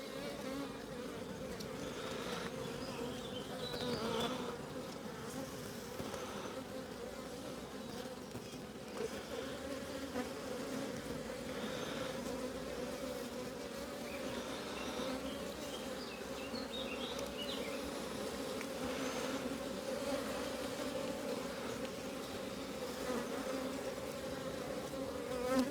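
Honey bees swarm around an opened hive full of brood, a dense, steady buzz that hangs close throughout with individual bees droning past now and then.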